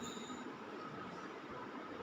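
Train from the video game Dead Rails rolling along in a steady, continuous rumble, with no talk over it.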